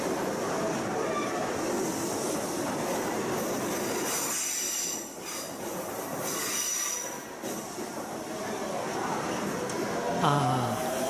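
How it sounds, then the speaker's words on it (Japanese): An Urban Flyer train runs past close by, its wheels squealing loudly and continuously over the rails with rumbling carriage noise, briefly easing midway before surging again, with a voice faintly heard near the end. "アーバンフライヤーが走ってきます。"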